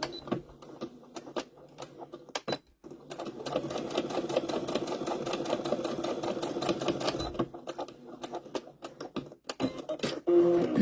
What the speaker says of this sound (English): we're just going to make a short seam right there in that opening